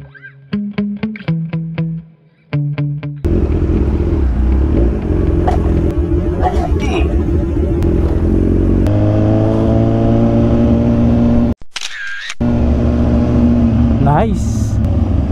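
A Toyota HiAce 3.0 van engine revs loudly through a throaty aftermarket muffler, surging and holding a rough drone, with people talking over it in spots.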